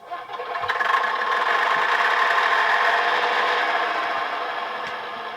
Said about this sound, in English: That was a warm engine starter.